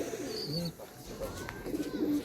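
Pigeons in a rooftop loft at Mourigram, Howrah give soft, low cooing under a noisy, busy background, with faint chirps mixed in.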